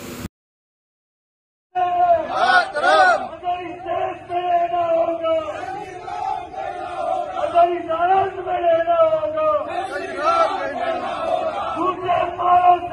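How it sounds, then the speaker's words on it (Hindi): A large crowd chants a slogan in unison, a loud, rhythmic mass of voices repeating the phrase after a brief silence at the start and carrying on to the end. "इतना सारा भीड़ को इकट्ठा किया गया है और ये लोग नारा भी लगा रहे हैं साथ में"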